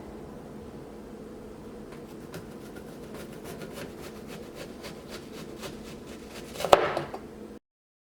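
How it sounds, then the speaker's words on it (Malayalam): An onion being cut with a knife into thick, inch-wide rings, a rapid series of faint close slicing taps on a board, ending in a louder clatter before stopping. "നമുക്ക് ഓണിയൻ കട്ട് ചെയ്തെടുക്കാം"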